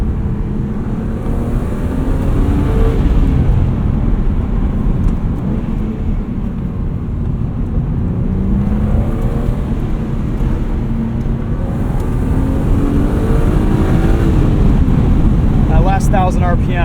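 A 1995 BMW E36 M3 Lightweight engine winds steadily toward high revs, a loud sustained droning roar from inside the car with rising pitch sweeps and heavy wind and road noise, a voice talking over it.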